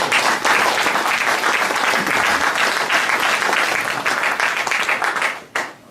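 Loud, sustained applause from an audience at a political debate forum, steady and close throughout before fading out near the end.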